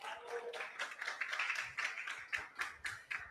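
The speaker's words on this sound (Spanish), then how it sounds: "Un fuerte aplauso para ella." An audience at a pageant registration event for the Señorita Atlántico contest claps in a burst of applause, moderately close, with loud individual claps standing out near the end.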